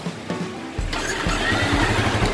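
A Yamaha Vixion motorcycle engine starts: a brief electric starter whirr, then it catches and settles into a steady, close idle, with no talking.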